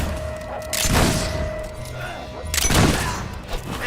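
Gunfire in the video game Fable III: two bursts of shots and impacts about a second and a half apart, fairly loud against a steady in-game background hum.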